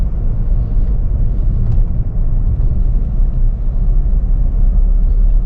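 Inside an economical petrol car in Pakistan while it is driven, a steady low engine and road rumble fills the cabin with no talk over it.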